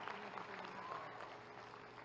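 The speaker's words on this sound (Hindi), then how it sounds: "आप ताली बजाएं" Steady crowd applause filling the whole stretch, dense clapping at an even level with faint voices mixed in.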